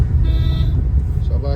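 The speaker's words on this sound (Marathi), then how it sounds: "हॉर्न वाजवा अजून जोरात." A car horn sounds once on a ghat road, a short bright blast over a low, rumbling engine and road noise.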